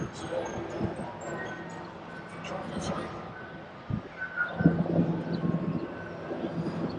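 Long Island Rail Road trains stand in the Hudson Yards rail yard, giving a faint, distant rumble and hum with scattered mechanical tones under a person talking.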